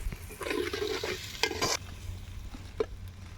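Country chicken with turmeric and ginger frying and being stirred in a pan until brown, a steady sizzle broken by scraping stirs and a few sharp clinks, close and alone.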